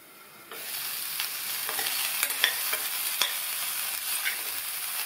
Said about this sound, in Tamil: அப்பப்போ திறந்து பார்த்து கிண்டி விட்டுக்கணும்.